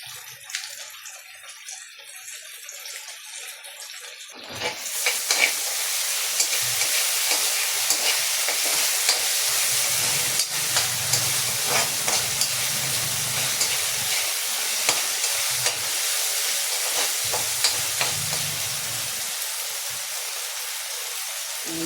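Pechay frying in a pan just after oyster sauce goes in, a sudden loud sizzle that bursts in after a few quiet seconds and then hisses steadily with occasional stirring scrapes, close and without talk.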